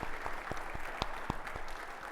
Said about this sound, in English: Can we get one more round of applause for all the sponsors, partners, presenters?